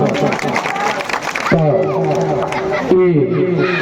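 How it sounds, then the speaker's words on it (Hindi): A crowd claps at a matka phod pot-breaking event, a burst of scattered hand claps in the first half, followed by a loud voice over a tonal sound as the clapping fades. "एक बार जोर के ताली दियो जोर कर।"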